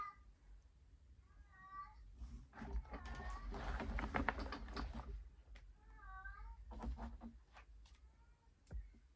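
A cat in heat meows repeatedly indoors, several drawn-out wavering calls in two bursts with short pauses, fairly close and clear.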